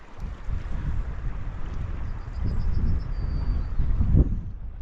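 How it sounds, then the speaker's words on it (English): Gusting wind beside the River Tay in Scotland in June during salmon fishing, a steady rumbling buffet on the microphone that swells and eases, loud and close, with no talk. "That wind's a little bit awkward as well."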